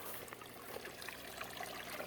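Water trickles and dribbles quietly out of a backyard aquaponic sand bed, a faint, steady, uneven drainage stream with small splashy bubbles throughout.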